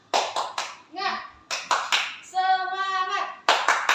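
Children in a classroom doing a rhythmic clapping chant, short bursts of sharp claps alternating with group voices calling out in unison, fairly close and loud.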